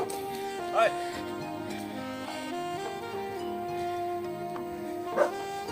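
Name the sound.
dogs barking on a hiking trail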